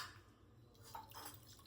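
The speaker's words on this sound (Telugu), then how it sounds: "వాటర్ వేసుకోవాలి ఇందులో" Water pours into a bowl for Maggi noodles in a home kitchen, a soft, brief splashing trickle with faint clinks of the dish, quiet and close.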